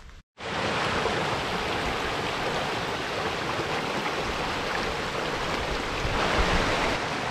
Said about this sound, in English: I'm not sure whether you can hear me over the rush of the water there